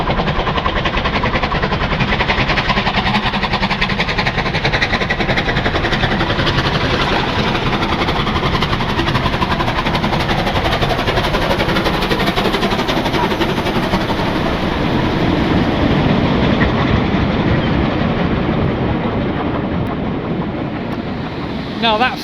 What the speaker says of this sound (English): If you want to imagine what it would have looked like to see a steam train thundering over, we can actually show you with this magnificent video clip.